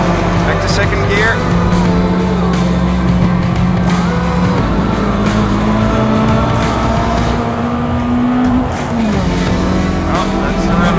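A Citroën Saxo VTS 16V engine screams at high revs, bouncing off the rev limiter in a loud, continuous, strained drone with some tire noise.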